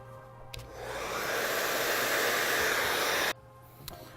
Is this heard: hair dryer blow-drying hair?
yes